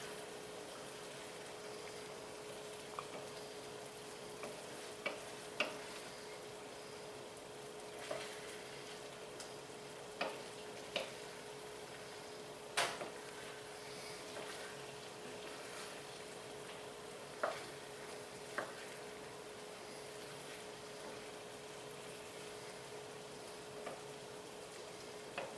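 Shrimp cook over high heat in a paella pan with a low, steady sizzle throughout, broken by scattered sharp pops and ticks, quiet and close, with no talking.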